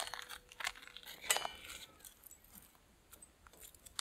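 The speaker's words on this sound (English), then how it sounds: "Now I'm going to put the ash pan on top." A metal ash pan set upside down on top of a Firebox stove while cooking pizza outdoors, giving a few light metallic clinks and a sharper clank near the middle, faint and close, with no talk.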